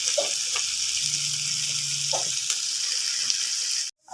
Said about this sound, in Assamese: এইফালে মাছকেইটা ফ্ৰাই কৰি লৈছোঁ মই